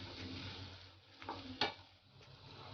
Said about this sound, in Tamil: இஞ்சி பேஸ்ட்டோட பச்சை வாசனை போகிற வரைக்கும் நல்லா மிக்ஸ் பண்ணிக்கோங்க